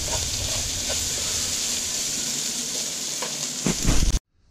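Garlic frying in a pot with meat and paprika for a Hungarian tarhonya and meat dish: a dense, steady sizzle close up, with a brief clatter of stirring before it cuts off abruptly.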